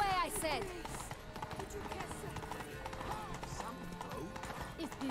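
Steady clip-clop of a horse galloping in The Witcher 3: Blood and Wine, with fast, even hoofbeats running under game ambience and background noise.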